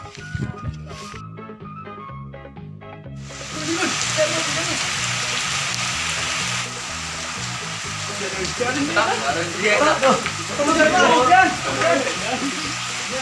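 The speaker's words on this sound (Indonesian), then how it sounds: "Ini hujan aja." Steady rain falling outdoors, a broad hiss that swells and grows heavier partway through, heard beneath background music and people talking.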